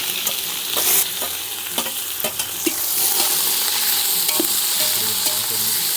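Eight hundred grams of onion tipped into hot oil with cinnamon, cloves and cardamom for a chicken dum biryani, a strong sizzle that swells and holds steady under repeated stirring clinks, close and with no talking.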